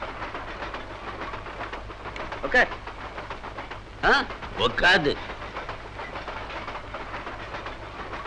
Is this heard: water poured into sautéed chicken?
no